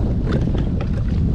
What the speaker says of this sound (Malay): Gua dah cakap angin kuat hari ni.